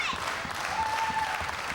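Wrestling crowd at a live match cheering and clapping in a steady, dense roar that stays loud and continuous from start to end, with a faint whistle or tone above it.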